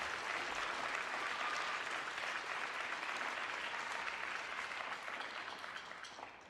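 Steady, even applause from a school orchestra club concert audience, fairly distant and soft, holding throughout before tapering slightly at the end.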